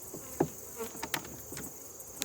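Honey bees around an open hive during honey harvest, giving a faint, thin buzz with a few brief louder passes close by and scattered small knocks.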